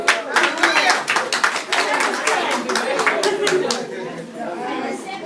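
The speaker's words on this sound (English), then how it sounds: "Clap for yourself." A seated wellness-talk audience claps for themselves in crisp, fairly close hand claps, mixed with crowd chatter and laughter, the clapping fading into murmuring voices toward the end.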